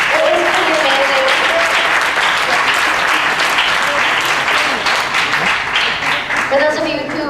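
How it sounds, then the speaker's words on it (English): Students at an MIT Global Startup event applaud a hackathon, a loud, sustained crowd clapping that stays full and even throughout, with a few voices underneath. "If we could get a quick round of applause from the students"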